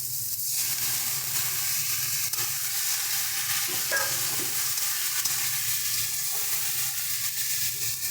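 Potato and tomato masala with added water stirred in a hot pan for a banana-flower dish, a loud continuous hiss and sizzle up close with faint scraping from the spoon.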